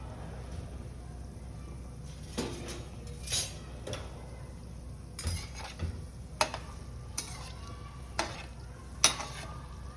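Gulab jamun frying at medium heat in a kadhai, a faint oil sizzle under repeated spoon scrapes and light metallic clinks as the pieces are stirred, with no talk.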